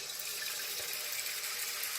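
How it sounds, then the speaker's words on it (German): Tap water streams steadily onto a plate coated in paint, a constant broad hissing splash at moderate level, uninterrupted and with no voices. "ich lasse da jetzt Wasser drauf fließen"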